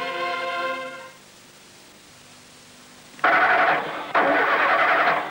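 A damp car engine being started in a 1984 British Castrol TV advert: a brief fading musical tail, a quiet pause, then a loud burst of hissing noise that cuts briefly and resumes.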